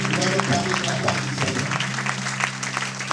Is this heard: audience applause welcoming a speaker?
yes